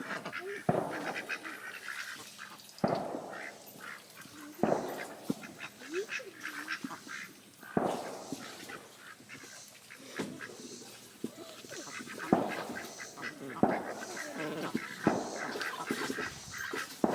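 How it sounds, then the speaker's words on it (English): Ducks on an Ozarks homestead quack repeatedly in bursts, fairly close, while a faint voice talks now and then and distant gunshots from target practice pop in the background. "I enjoy my ducks."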